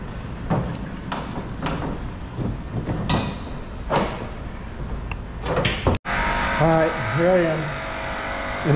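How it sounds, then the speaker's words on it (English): An air pump inflates a plugged car tire in a parking garage with a buzzing, intermittent whir. There are clicks and a sharp knock partway through, followed by a steadier hum with a warbling tone. "Now I'm just literally waiting for it to air up."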